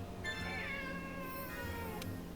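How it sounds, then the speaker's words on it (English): A pet cat meows at close range in a quiet room: a few drawn-out, rising and falling meows, clear and alone with no talking. "Oh, there's my kitty cat Joker."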